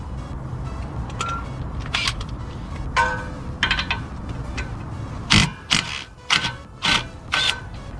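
A 17 mm wrench loosens the axle nut on a 2000 Honda CR-V in a backyard garage, giving a string of sharp ratcheting clicks and metallic scrapes in quick bursts, close and fairly loud, with brief gaps between them.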